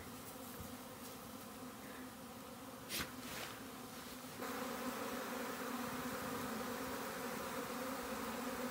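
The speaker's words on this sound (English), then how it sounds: "There's a lot of buzzing coming this way around because it's very muddy." A dense, steady drone of many honeybees buzzing around a hive, continuous and fairly close, swelling slightly louder partway through.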